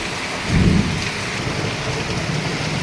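Heavy rain pours down in a constant roar, with a brief low rumble near the start.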